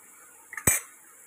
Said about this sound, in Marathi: भाजी टाकते, बटाटा, वांग, वाटाणा